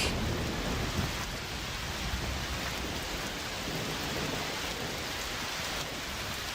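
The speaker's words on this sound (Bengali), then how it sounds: "এ কেমন বৃষ্টি শুরু হলো!" Heavy rain pouring steadily in a cartoon storm, a dense, even roar with thunder rumbling beneath it, loud and unbroken throughout with no voices.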